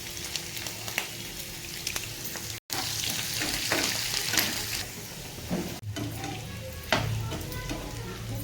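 Onions and green chilies sizzle in hot oil with mustard seeds, cumin and chana dal tempering, a steady close crackle with occasional stirring scrapes and a brief cut partway through.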